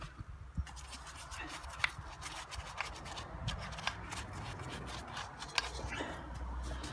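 Bristles scrub cleaner onto a Honda 13hp pressure washer being refurbished, a steady close scratchy brushing with a few sharper knocks throughout.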